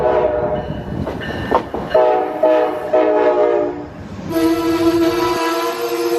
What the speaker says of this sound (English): Oh, this is the same train from yesterday, I think.